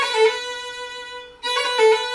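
A classical turn ornament played twice on a sustained melodic instrument, a quick cluster of notes circling a main pitch, separated by a short pause, clear and close with no talk.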